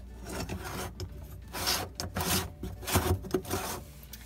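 A cloth is rubbed back and forth to wipe excess silicone from a kitchen sink drain basket, giving a series of close, uneven scraping and rubbing strokes with short gaps between them.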